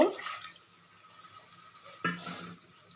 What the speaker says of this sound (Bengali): দিয়ে দেব মিক্সি ধোয়ার জলটা আর একটু জল দেব